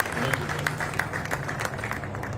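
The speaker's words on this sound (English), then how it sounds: "How about a nice round of applause for your Seattle Mariners here." Crowd applause for the Seattle Mariners at a statue unveiling ceremony, a steady dense wash of clapping with crisp individual claps standing out, mixed with crowd noise.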